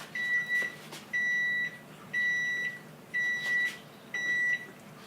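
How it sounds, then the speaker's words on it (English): A kitchen timer beeps in five evenly spaced bursts of repeated electronic tones as bread dough is made, clear and close with no talking. "we're putting the dough into the container exactly when the timer"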